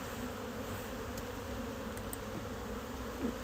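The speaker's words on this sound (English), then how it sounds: "Just a little bit of smoke will get those bees to go down" A steady, faint hum of honeybees buzzing fills the air around an opened backyard hive, continuous and close with no voices.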